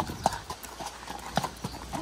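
Ponies' hooves clip-clop in a steady, even walking rhythm, close and fairly clear over light outdoor wind.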